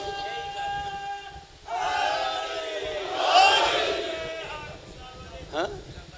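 A large crowd at a Muharram religious gathering in Pakistan roars out a chanted religious slogan in unison, a loud swelling shout rising over lingering voices and fading away.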